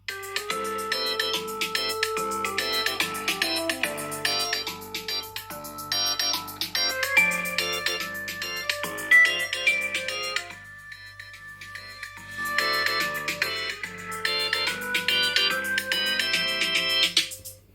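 An iPhone 11 Pro Max loudspeaker plays a melodic ringtone for about eighteen seconds, a busy, bright chime-like tune that is loud and close, with a brief dip partway through.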